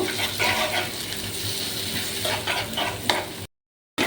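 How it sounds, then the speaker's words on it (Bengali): Two eggs frying in a pan for an egg tadka, giving a continuous close sizzle with stirring scrapes, ending in a brief gap of silence. "ডিমটা দিয়ে কিছুক্ষণ ফ্রাই করতে থাকবো"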